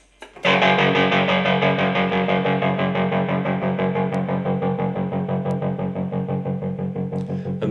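Electric guitar chords ring out continuously with a steady pulsing tremolo, the volume throbbing in a regular rhythm; no voices.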